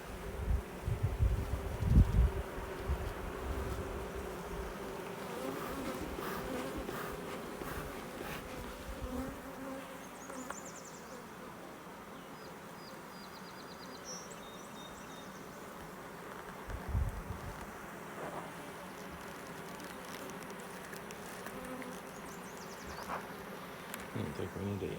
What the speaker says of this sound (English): I don't know if you can hear the hum of the bees.